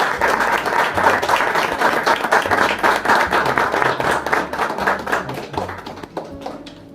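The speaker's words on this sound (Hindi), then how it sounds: "आइए हम खड़े होके जोरदार तालियां बजाएंगे प्रभु के लिए" A church congregation at a thanksgiving meeting claps loudly and steadily as one, a sustained burst of applause that fades out near the close.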